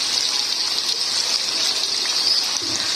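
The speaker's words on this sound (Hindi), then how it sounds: "अब मैं इसमें 1 कप पानी ऐड कर दूंगी।" Water poured from a cup into chicken karahi cooking with tomatoes in a pan, a steady close splashing gush with a faint sizzle that runs unbroken for the whole stretch, with no voices.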